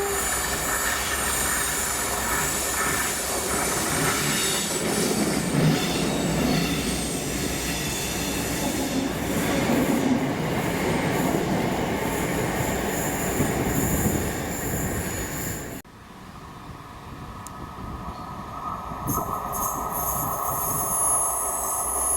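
A Class 57 locomotive, 57312, hauls Class 323 electric unit 323010 through Hyndland. Close, loud rumbling and clattering wheels with squealing build over the passage, then the sound drops sharply to a quieter fading roll.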